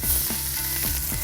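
Swiss chard leaves and garlic sizzle in a saute pan, giving a steady, close frying hiss with soft stirring clicks and scrapes throughout.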